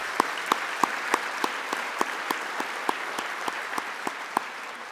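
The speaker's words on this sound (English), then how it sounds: "Let's give them a big round of applause." A city audience applauds during a State of the City address, a steady bed of clapping with a few distinct, evenly spaced sharp claps standing out near the front, no talking.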